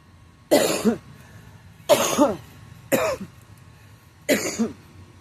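Four separate coughs, loud and close, spaced about a second apart with quiet between them.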